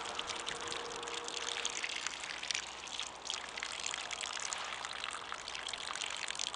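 Water pours out of a waterlogged item during a fall yard cleanup after a wind storm, a steady close gushing and trickling stream that carries on without a break.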